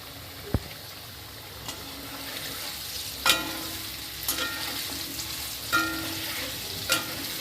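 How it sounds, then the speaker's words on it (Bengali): Potato pieces frying in hot oil in a pan with turmeric and chilli powder: a steady, soft sizzle runs throughout, punctuated by a few sharp clicks and scrapes of a utensil against the pan. "আলুটা আমার ভাজা হয়ে গেছে, এবার আমি এটাকে তুলে রাখবো।"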